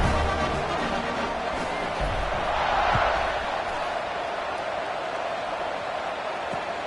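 A college football stadium crowd, Tech versus Michigan State, sends up a steady, dense roar before a kickoff, a broad wash of many voices that swells slightly midway with a few faint thumps underneath.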